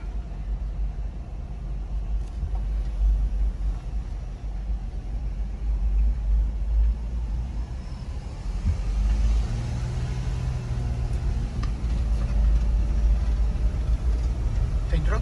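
A car working along the steep paved road into Waipio Valley gives a continuous low engine rumble and road noise that swells and fades, with people talking over it.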